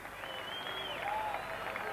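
A crowd at a harness racing track claps steadily for the winning horse Village Kid after the Miracle Mile at Harold Park, a continuous even applause from a distance under a commentator's voice.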